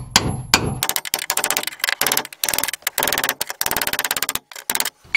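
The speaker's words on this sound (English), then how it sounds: "You just need a cold chisel and some kind of hammer. We're just gonna break these little tabs loose." A hammer drives a cold chisel against the metal frame tabs of a Promaster van, producing rapid ringing clangs in dense bursts with short gaps, loud and close.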